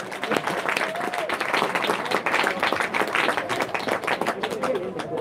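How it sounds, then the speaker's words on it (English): A crowd applauds and cheers at a live martial arts gold medal match, dense steady clapping mixed with shouts, with an announcer's voice talking over the noise. "Ladies and gentlemen, give our warriors some encouragement, give them a cheer"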